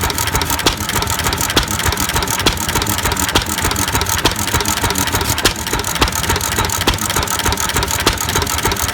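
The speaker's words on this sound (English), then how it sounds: "See the beautiful running old engine," An old stationary engine with a flywheel runs steadily at an open-day collection, its regular thumping beat repeating evenly and fairly close, with no talk over it.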